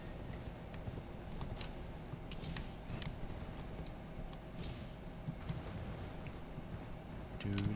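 Horse hooves galloping in the Elden Ring video game, a steady run of clip-clop beats over a continuous noisy game soundtrack, held at an even level throughout.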